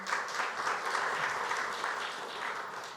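Audience applause fills a summit welcome address hall, a dense, steady wash of many hands clapping that holds at an even level for the full three seconds with no talk over it.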